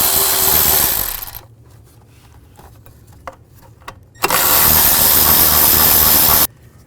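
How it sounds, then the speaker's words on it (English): Bursts from a power tool, likely an impact tool on a 10mm socket, take out the bracket bolts on a Nissan Xterra engine: a loud, steady whir for a second, a quieter gap with small clicks, then a second sustained burst of about two seconds. "take these bolts out."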